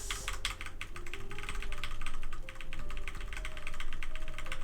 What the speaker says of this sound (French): Moi je spam la touche